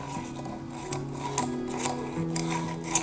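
A fingerboard grinds and scratches along a wooden surface with a faint, steady rasping rub and a few brief scrapes, quiet and close.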